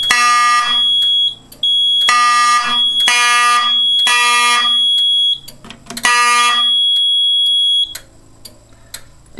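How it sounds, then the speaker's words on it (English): A smoke detector under test shrieks in long loud bursts of a piercing harmonic tone, stopping and restarting several times before falling quiet as it resets. "with these smoke detectors it takes a long time to reset"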